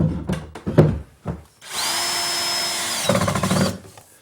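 A power drill drives screws through a flanking cabinet into the adjacent cabinet in a library built-in, opening with a few short knocks and bursts, then a steady whirring run of about a second and a half and a shorter buzzing burst, close and loud.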